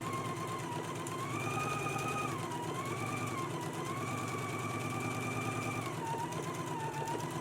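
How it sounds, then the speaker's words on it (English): A sewing machine runs steadily for the whole stretch, stitching a 5/8 inch seam with an even, humming whir whose pitch rises and dips slightly as the speed changes. "let's go ahead and stitch using a 5/8 of an inch seam allowance"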